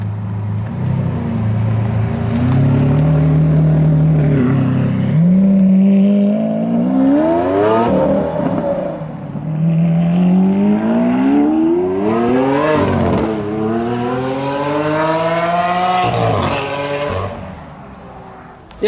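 A Lamborghini Aventador SVJ supercar roars nearby at a car meet, its engine rising and falling through repeated loud revving sweeps and gear changes as it accelerates, with a faint voice underneath.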